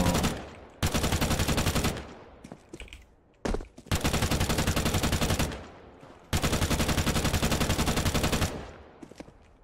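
Bursts of rapid automatic gunfire in Counter-Strike 2, three long sustained volleys with short gaps and a few brief single shots between them, loud and close with almost no talk.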